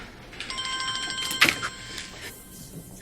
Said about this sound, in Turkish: Benim telefonu açmam lazım özür dilerim.